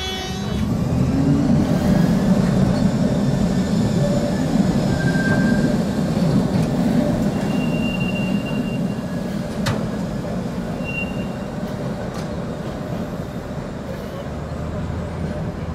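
A Czechoslovak-built Tatra T5C5 tram runs on Budapest streets with a loud, steady rolling rumble and brief high wheel squeals. Voices murmur faintly in the background.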